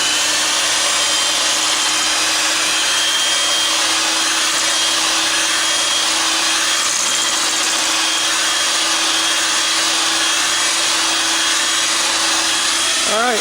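An electric mixer whirs steadily and loudly while mixing cheesecake batter in a bowl, holding a constant droning whine the whole time.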